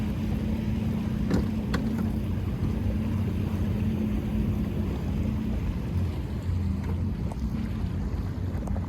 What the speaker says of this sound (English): At the end of the day, all the boats are coming back in.